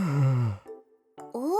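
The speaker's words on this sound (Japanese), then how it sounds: "大きなあくびだね。" A drawn-out yawn from a young woman, breathy and voiced, sliding downward before trailing off into a short quiet pause and a brief vocal follow-up, close and alone.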